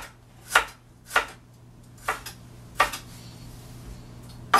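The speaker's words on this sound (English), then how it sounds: "And then I'm just going to really rough chop it." A knife rough-chops ginger for a marinade on a cutting board, five sharp, close chops at an uneven, unhurried pace over a steady low hum.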